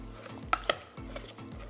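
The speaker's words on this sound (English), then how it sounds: "Okay, now I'm gonna continue mixing it." Kimchi seasoning mixed with pear juice in a bowl, close and fairly loud, with two sharp utensil clinks against the bowl over a low repeating swishing stir.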